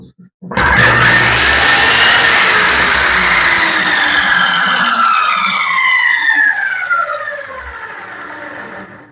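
A power saw cuts through wood for a giant canvas frame, a loud, sustained whining roar that starts abruptly and holds for about eight seconds before trailing off, with no talking over it.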